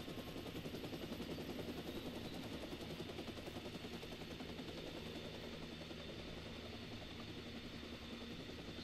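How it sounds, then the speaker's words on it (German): A helicopter in the video game Watch Dogs gives off a continuous, even rotor drone with a fast, choppy pulse. It holds at a steady level from start to finish, with no talk over it. "da ist der Heli"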